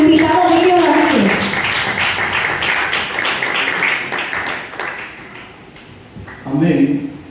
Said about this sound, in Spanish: Un fuerte aplauso para nuestro invitado Ovidio Ramírez.